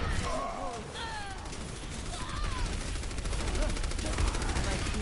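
Overwatch match on the Oasis map with rapid, overlapping gunfire bursts as a team focuses fire, mixed with ability effects and chirping game sounds while a commentator talks over the action.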